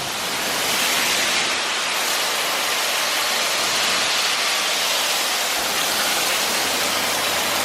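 Water sprayed hard against a pilothouse boat's cabin during a leak test makes a loud, continuous hiss and roar of spray that barely varies, with no voices.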